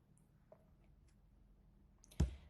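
A single sharp mouse click on a submit button, close and brief, following a quiet stretch with a few faint ticks and low background hum.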